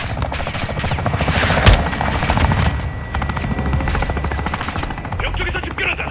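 An airstrike pounds a building in Call of Duty: Modern Warfare II, with a throbbing helicopter rotor, rattling automatic gunfire and a heavy boom all merged into one loud, continuous battle din.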